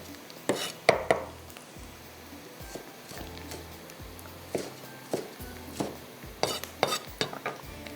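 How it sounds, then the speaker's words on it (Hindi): Whole spices fry in a pan for chicken kalonji, with irregular clinks and scrapes of a spoon stirring against the metal over a soft, steady sizzle. "हम इसमें डालेंगे पहले ये सारे मसाले, ताकि मसाले थोड़े से फ्राई हो जाए।"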